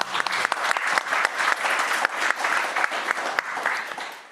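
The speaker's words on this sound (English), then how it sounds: "A round of applause for youth" Sustained applause from an audience at a youth event honouring laureates, dense and steady clapping filling the room at fairly close range with no break.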